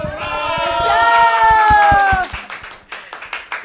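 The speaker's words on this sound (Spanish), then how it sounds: "Venga, un aplauso, muchachos." Audience applause on a comedy stage show. A loud crowd cheers and shouts together with sustained vocal whoops while clapping runs underneath, then the cheering drops away, leaving scattered claps and murmurs.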